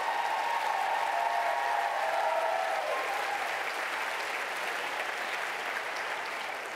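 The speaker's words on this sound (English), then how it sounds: "We want to give you a round of applause." An audience at a relay event gathering gives sustained applause, a dense even wash of many hands clapping that holds steady and tapers slightly toward the end, with a faint voice briefly audible early on.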